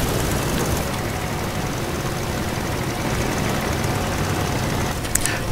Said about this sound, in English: I can hear the engine start to uh, wind down here.